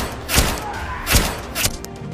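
Gunfire from a special gun sprayed into a car in an animated Hindi story, heard as three sharp, loud bursts spread over about two seconds, with rumbling between the shots.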